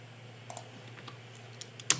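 A computer keyboard's spacebar pressed a few times while working in AutoCAD, giving sparse, light clicks spread over two seconds with one sharper tap near the end, close and quiet against a low steady hum.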